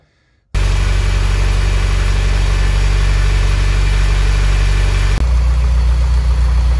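A Mitsubishi Evo X engine turns over and catches after a crank seal replacement, then settles into a steady, loud idle with a brief shift in tone near the end.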